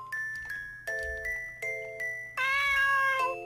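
Cats meowing in the video game Chloé's Requiem: a run of clear, tonal meows one after another, then a louder, drawn-out overlapping cry near the end, set against a soft steady musical background.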